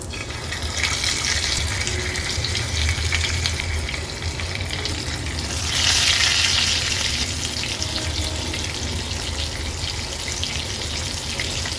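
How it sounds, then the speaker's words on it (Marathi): Mackerel and threadfin fish coated in rice flour fry in oil on a griddle, giving a loud, steady, close sizzle that crackles continuously and swells briefly partway through. "आता तेलामध्ये सोडूया"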